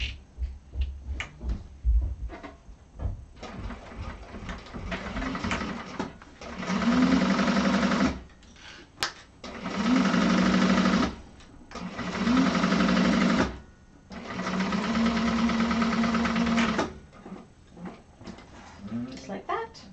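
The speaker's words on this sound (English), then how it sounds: "so sew across with a 3/8 of an inch seam allowance." A sewing machine stitching a carpet bag seam runs in four separate bursts of a few seconds each, close and steady, with a person talking in the gaps between them.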